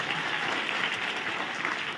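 An audience at a school annual function comedy show claps together in a brief, steady burst of applause, dense and fairly close, with no talking over it.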